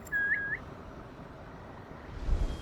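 Naoe whistles in Assassin's Creed Shadows, two short rising whistle notes in quick succession, clear over a quiet, faintly rumbling background.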